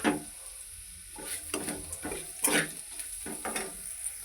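Sliced bitter gourd fries in a pan with a constant soft sizzle, broken by several scraping stirs of a spatula at irregular intervals, close and alone.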